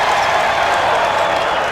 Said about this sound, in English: And the Riley Center faithful are on their feet as the Bonnies lead by 5.